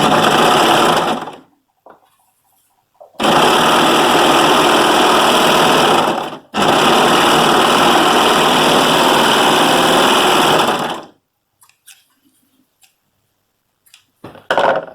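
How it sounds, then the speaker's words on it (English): A serger, or overlocker, stitches a sweater seam in long, loud, steady buzzing runs of several seconds, each stopping abruptly, with quiet handling noises in the gaps between. "I'm going to be using my serger, or overlocker as we like to call it here in the United Kingdom."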